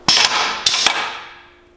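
A bath bomb press is operated, giving two sharp, loud mechanical clacks about half a second apart, each ringing out and fading over a quiet room.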